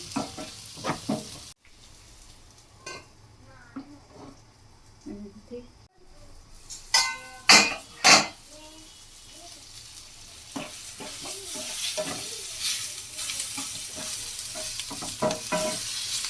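Spices and ingredients for a Kerala-style fish curry paste, including mustard seeds and fenugreek, roast and fry in a pan. A soft sizzle comes and goes with a few sharp clicks and scrapes, and a voice talks at intervals.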